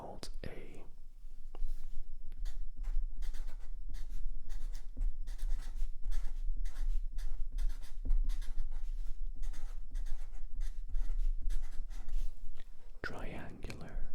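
Pen scratching steadily across paper in close, busy strokes during a whispered maths lesson on areas and volumes of shapes, the soft voice running quietly beneath the continuous writing.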